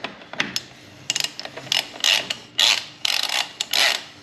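Ratchet wrench tightening the bottom bracket on a Super73 RX Mojave e-bike during a 10-speed kit install, close, crisp clicking bursts in short repeated strokes with brief pauses between them.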